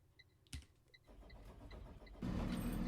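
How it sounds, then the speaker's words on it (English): A diesel Thomas C2 bus in the Roblox game starts up, with a short mechanical clunk followed by a steady low engine idle that grows louder and fuller toward the end, heard alone. "Different engine sound. This is a diesel bus."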